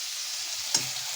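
A masala of tomato and salt fries softly in a pan, a faint steady sizzle broken by one brief scrape of stirring, close but quiet, no voices.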